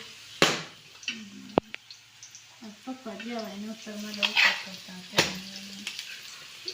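Whole vadis fry in hot oil in a home kitchen, a soft sizzle underneath as people talk and sharp clinks of a utensil against the pan ring out now and then.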